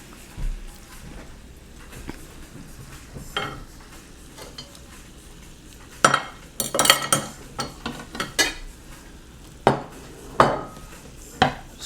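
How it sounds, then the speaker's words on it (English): Plates and cutlery being handled and set out for serving a home-cooked steak meal, sharp clinks and clatters in bursts after a quiet stretch, close by. "So let me get my plates ready."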